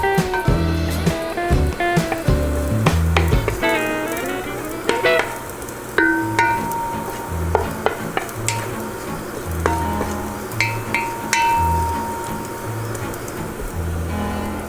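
Garlic sizzles and browns in a hot pan, with a steady frying hiss broken by frequent clinks and scrapes of stirring, close and fairly loud.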